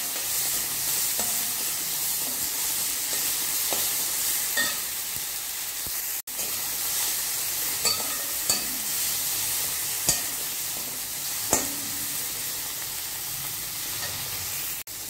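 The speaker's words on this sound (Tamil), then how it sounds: "தக்காளி நல்லா வதங்கட்டும்." Tomatoes with curry leaves sautéing in a pan for idiyappam kothu, a steady hissing sizzle with occasional spoon taps and stirring clicks, close and without talk.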